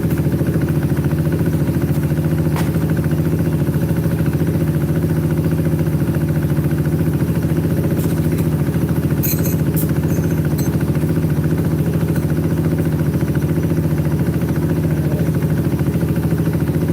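A scooter engine idling steadily after an oil change, warming up with a constant loud mid-pitched drone and faint mechanical ticking throughout, running alone without talk.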